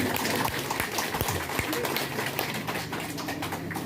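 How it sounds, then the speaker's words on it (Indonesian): An audience claps at a health office launch event for an integrated primary care programme, a sustained wash of applause with a few sharper hand claps near the start, moderately loud and fairly close. "Kenapa tidak tepuk tangan? Tepuk tangan aja."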